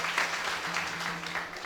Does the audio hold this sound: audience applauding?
yes